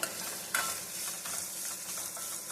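Spices fry in a pan for a village-style sprouted horsegram saaru, giving a soft continuous sizzle with a few light stirring scrapes, close but fairly quiet.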